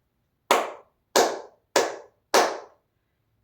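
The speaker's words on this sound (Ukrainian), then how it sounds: "Я плескаю, а ви рахуйте" A teacher in an online kindergarten lesson claps her hands four times, each sharp, close clap evenly spaced about half a second apart with silence between, and the start of another clap at the very end.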